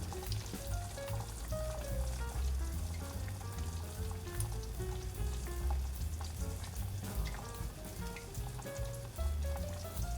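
Napa cabbage and glass noodles cook in a pan on the stove with a steady, close sizzle and bubbling, plus occasional soft stirring clicks. No one speaks.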